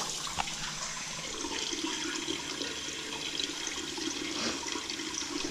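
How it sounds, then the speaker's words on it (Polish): Water pours steadily into a workshop sink drain at a car repair shop, a continuous close splashing and gurgling wash that runs alone without any talk. "Doleję sobie trochę wody."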